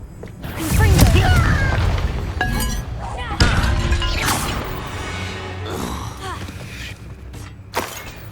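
A Confringo blasting spell going off in Hogwarts Legacy, with a booming explosion followed by shattering, clinking debris and game effects that layer over one another, plus a brief spoken word.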